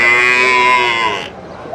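A buffalo calf at a buffalo market in Erragadda, Hyderabad, lets out a single loud, close, drawn-out moo lasting over a second, then fades out.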